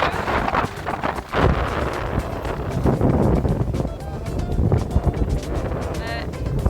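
Strong wind buffeting the microphone in gusts aboard a sailboat on an open-ocean crossing from Portugal to the Azores, with rushing water and boat noise and a person speaking over it.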